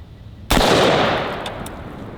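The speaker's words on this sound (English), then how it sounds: "we have the Daniel Defense Mark 18, obviously shooting the 223." A single loud, sharp report from a Daniel Defense Mark 18 rifle firing .223 at a body armor plate, close by, with a long booming decay afterward and no talk.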